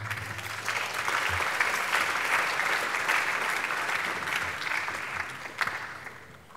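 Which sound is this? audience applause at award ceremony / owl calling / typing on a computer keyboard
audience applause at award ceremony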